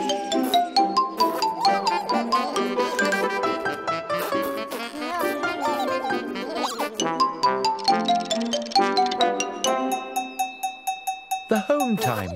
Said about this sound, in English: home time bell.